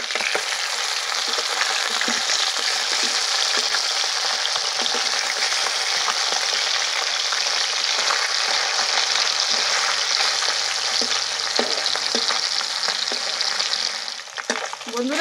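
Small fish fry in a pan with a steady, dense sizzle and spitting crackle throughout, close and fairly loud, with occasional utensil taps near the end and no talking.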